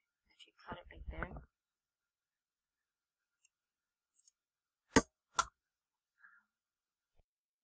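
Two sharp scissor snips cut a crochet yarn tail at close range, quick and distinct after a few seconds of near silence, preceded by a brief soft whisper and followed by faint clicks.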